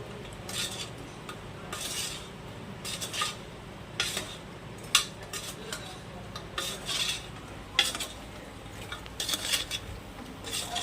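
A metal spoon stirs snake gourd curry in a pan, scraping and clinking in irregular strokes across the bottom and sides, with a faint sizzle beneath.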